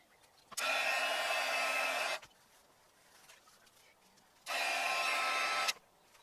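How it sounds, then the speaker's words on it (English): A heat gun blows in two steady, loud bursts of broadband hiss, each about one and a half seconds long, warming leather preservative into leather. A quiet pause separates the bursts. "I was still able to get just as much saturation of the leather using a heat gun"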